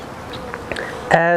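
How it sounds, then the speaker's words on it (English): Honey bees around a beehive during requeening make a faint low hum, then a louder, steadier buzz swells up close at the end, with a person talking under it. "the bees from the hive have been making their way and smelling the new queen that's in here."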